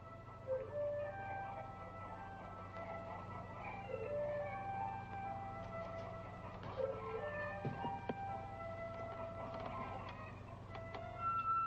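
Chickens in a rural wartime setting cluck and chirp in scattered, overlapping calls over a steady low hum, with a few sharper bird notes standing out; no talking.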